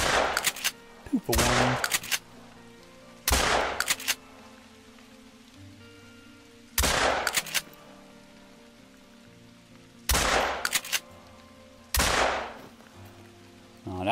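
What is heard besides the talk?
gunshots hunting rabbits in video game theHunter: Call of the Wild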